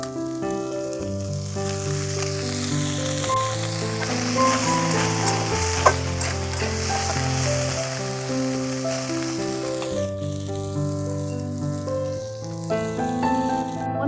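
Small chanda fish fry crisp in oil in a pan, a continuous loud sizzle with stirring, heard under steady background music.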